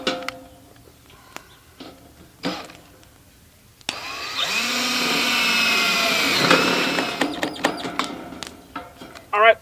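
A power drill drives screws into a wooden base board of a Zimmerman high tunnel, one sustained run of several seconds in the middle, with clicks and handling knocks before and after.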